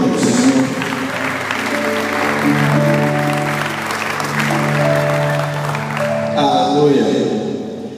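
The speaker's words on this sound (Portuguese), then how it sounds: "aplauda o nome do Senhor." Church congregation claps during a worship service, steady sustained applause throughout, with sung or spoken voices and tonal music over it.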